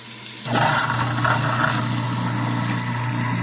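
A kitchen sink garbage disposal starts up and grinds celery with the tap water running, a loud steady whirring motor hum with a watery rush over it, continuous after a sudden start.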